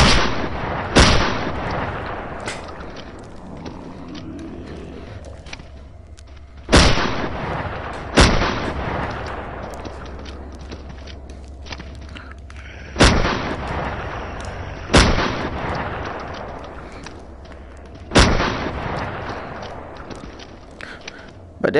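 Unsilenced gunfire in the video game SURV1V3: loud, sharp single shots spaced irregularly, each with a long booming tail, over steady background game noise.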